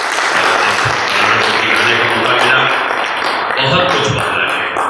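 Dense applause from a large audience at a Hindi public speech, loud and continuous throughout with a crowd roar under it and a few faint voices mixed in.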